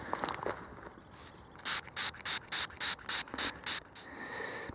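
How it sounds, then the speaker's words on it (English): A toothbrush is scrubbed in quick, even strokes over a small old pewter button found while treasure hunting, about nine close, regular brushing bursts alone after a soft hiss. "I'm just going to get a toothbrush and very carefully wipe that"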